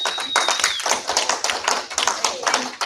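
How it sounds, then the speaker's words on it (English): Applause from attendees at a county board meeting, a brief burst of close clapping that holds fairly steady for a few seconds before thinning out. "So give yourselves a round of applause on that"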